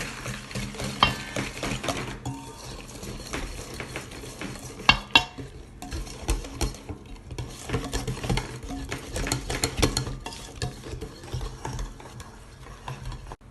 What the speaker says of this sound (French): Je vais fouetter.